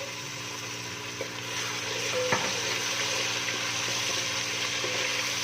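Browned onions sizzling steadily in a pan as ginger garlic paste is stirred in for a Punjabi aloo gosht, a close, continuous frying hiss with small scraping clicks.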